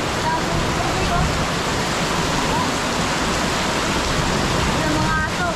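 Heavy rain and flowing floodwater during a storm with thunder and lightning, a dense, steady, loud roar of water that fills the whole clip without a break.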